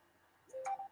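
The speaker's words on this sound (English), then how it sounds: "You can hear the notifications going off." A phone notification chimes briefly, a couple of short electronic tones in quick succession, faint and isolated against near silence.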